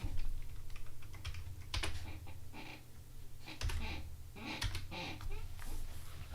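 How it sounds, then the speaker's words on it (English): Rapid clicking on a computer keyboard, bursts of keystrokes in quick uneven clusters with short pauses between, close and fairly clear over a low steady background hum. "Let me type it in here."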